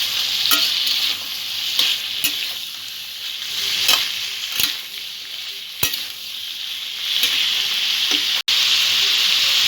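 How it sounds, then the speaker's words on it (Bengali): Potato and kankrol (spiny gourd) frying loudly in a pan, a strong hissing sizzle punctuated by several sharp spatula knocks and scrapes at irregular intervals, with no one talking. "আলু আর কাঁকরোলটা সামান্য কিছুক্ষণ ভেজে নেব ভালো করে।"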